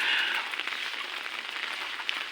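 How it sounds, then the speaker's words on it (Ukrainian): Steady rain falls outdoors at a forester's building in a rural village, a continuous soft hiss of drops on surfaces with no speech. "а можливо, на вдачу йде дощ"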